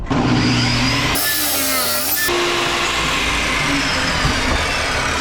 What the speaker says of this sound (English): So you flip the block, tuck it into your shim jig, do it again.